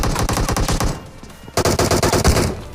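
Automatic gunfire from a battle royale mobile game rattles in two rapid, loud bursts separated by a brief lull.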